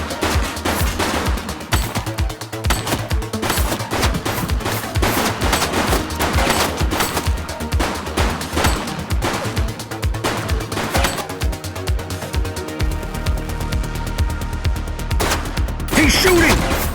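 Sustained automatic gunfire in the police video game The Precinct, rapid dense volleys continuing throughout, loud and close, with brief voices in the mix.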